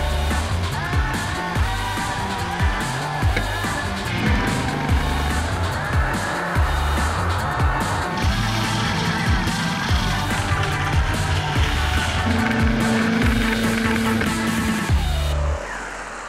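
A special friction-measuring car with a lowered fifth wheel runs on an elastic rubber motorway surface, giving a loud, continuous mix of engine noise and tyre roar with some squeal, close by and steady until it drops off at the end.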